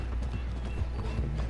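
A horse in the video game Red Dead Redemption 2 gives rhythmic, close clip-clopping hoofbeats with a whinny over them, loud and steady throughout.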